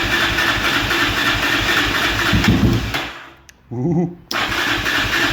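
A Yamaha Raptor 660R ATV engine runs on choke with a loud, rough, uneven chugging, then cuts out abruptly; after a brief quiet gap a short stuttering crank and a voice exclaiming are heard before the roar returns.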